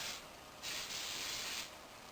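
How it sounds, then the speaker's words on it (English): Store-brand cooking spray hisses in two short bursts onto a springform pan for cheesecake, a close, steady airy spray with a brief pause between. "And we're going to grease it. I just use plain old cooking spray"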